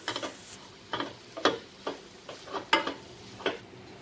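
Chicken masala being stirred in a pan, with a spoon scraping and clacking about eight times in an uneven rhythm over a low sizzle.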